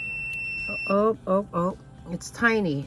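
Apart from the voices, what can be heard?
gemstone tester beeping when probe touches metal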